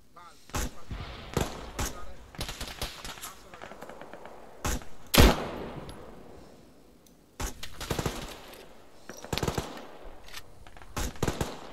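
Gunfire in Arma 3 cracks in scattered sharp shots and short bursts, some loud and close with one heavy blast, others fainter and distant, separated by brief quieter gaps.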